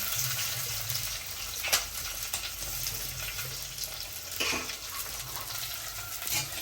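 Onions and chillies drop into a hot frying pan, and a steady loud sizzle of frying follows with a few sharper crackles and stirring scrapes, close by and without talk.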